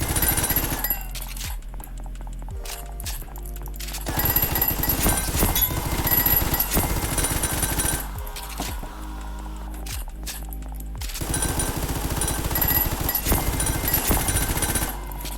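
A rapid-fire gun in Ragdoll Universe rattles off several long bursts of fast, sharp shots, loud and close, with brief gaps between volleys.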